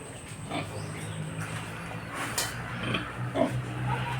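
Sows grunt and snort sporadically at moderate distance over a low steady hum, with a few louder squeals and shuffling noises.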